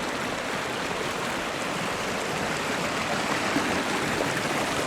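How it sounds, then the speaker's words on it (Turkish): Water flows along a stream in a village, a steady, loud rushing wash that stays constant throughout with no talking. "Buradan da sular akıyor gördüğünüz gibi."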